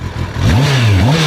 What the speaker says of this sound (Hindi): चलो अब इसको थोड़ा रैप करके देखते हैं कि इसकी स्टॉक साउंड कैसी आती है।